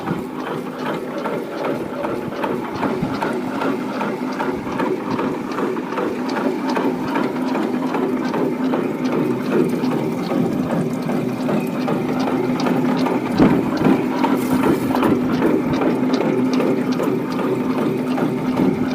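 An ATM diaphragm pump unit pumping water runs steadily with a rapid rhythmic mechanical ticking and chugging, continuous and close, with no voices.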